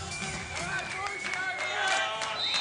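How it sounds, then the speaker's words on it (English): Crowd cheering and buzzing at a beach volleyball match after a point, a steady wash of distant applause and voices filling the short moment. "And the crowd loving it."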